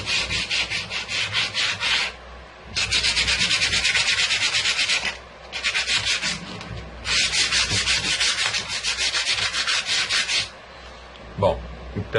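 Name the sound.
sanding a wooden picture frame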